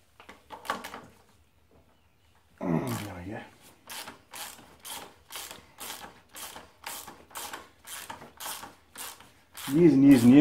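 A ratchet wrench clicks in a rapid, even series of strokes as a 17 mm clamp bolt on a motorcycle wheel spindle is cracked loose, close and loud, with brief clanks and a voice at either end.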